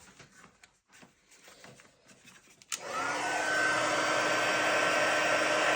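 A heat embossing tool switches on partway through and blows steadily, a loud continuous whirring hiss setting the embossing on a leaves card, with quiet handling rustles beforehand.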